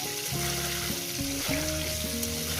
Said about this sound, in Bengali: এই আলুটাকে আমি ভেজে নেবো।